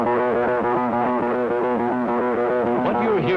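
Communist radio jamming of Western broadcasts, a loud, continuous warbling electronic tone with rapidly pulsing, wobbling harmonics that repeat in a steady rhythm, filling the whole stretch with no voices.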